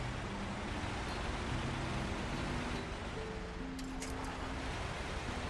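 A truck engine in the video game SnowRunner rumbles steadily at low volume amid broad rushing noise, with a few brief higher tones near the end.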